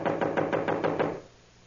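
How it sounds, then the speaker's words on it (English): Knuckles rap a door in a vintage radio crime drama, about six quick, even knocks in a close, loud run before the sound dies into quiet. "Well, knock again."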